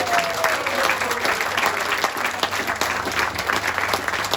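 Sustained audience applause fills a meeting hall at the Model A Ford Foundation annual gathering, a dense, steady wash of many hands clapping at an even loudness throughout, with a faint voice briefly audible near the start.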